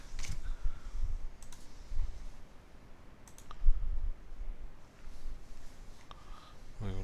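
A few faint, short computer mouse clicks land sparsely against low room noise while deleting a data disk in a cloud console, with no one speaking.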